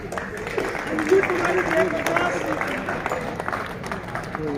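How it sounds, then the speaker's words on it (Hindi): An audience applauds at an awards ceremony honouring talented students. A dense, steady wash of clapping from a hall crowd runs throughout, with a voice speaking over it. "जोरदार तालियों के साथ"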